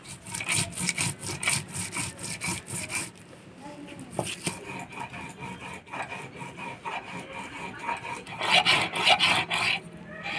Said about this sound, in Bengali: এবার কয়েকটা শুকনো লঙ্কা আর কয়েকটা পাকা লঙ্কা একসাথে বাইটে নিব।